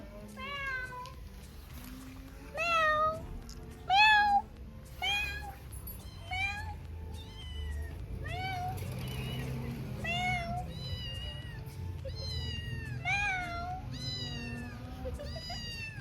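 A voice imitates a cat's meow, repeating short rising-and-falling mews many times at close range over low background hum.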